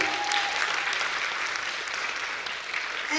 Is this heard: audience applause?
yes